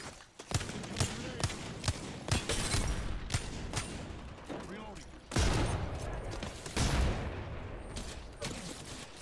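Rapid gunfire from an Apex Legends battle: repeated sharp shots and bursts crackle throughout, with heavier volleys near the middle and toward the end.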